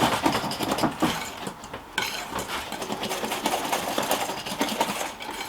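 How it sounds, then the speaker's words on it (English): Egg white and salt whisked together in a bowl for a salt crust on a whole salmon, giving a busy, continuous scraping and clattering rhythm close up, with no talk. "Keep whisking it around."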